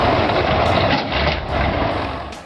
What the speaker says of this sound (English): This is the most haunting Detroit diesel engine sound I've ever heard.